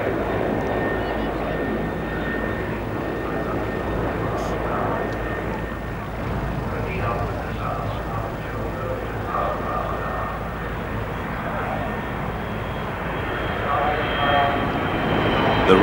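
A Russian military jet flies past at the 1992 Farnborough airshow, a steady broad engine roar at a moderate distance that swells slightly near the end, with commentary-like voice beneath.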